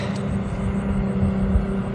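A small camera drone hovers nearby in the evening, its steady, even propeller drone and whine holding at a constant level without talking.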